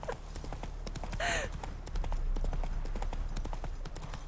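A horse gallops in The Witcher 3 with a steady, close clip-clop of hooves, and a brief whinny rises partway through.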